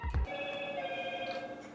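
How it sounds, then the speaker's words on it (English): A mobile phone rings inside a plastic bag, sounding as a steady, muffled electronic ringtone after a short rustling thump at the start, close by and with no talking. "I got 4 phones in a plastic bag, that's one of them."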